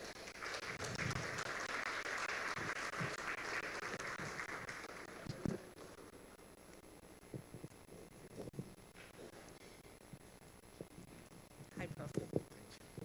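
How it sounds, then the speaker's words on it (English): A conference hall audience at an African regional education and skills development conference applauds to welcome Professor Humphrey Danso. The broad clapping lasts about five seconds, then dies away into quieter room noise with some talking and a few knocks. "with a round of applause, let us welcome Professor Humphrey Danso"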